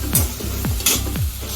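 Onions, green chillies and curry leaves frying in a pan for a raw banana curry, with a steady close sizzle broken by three scraping stirs.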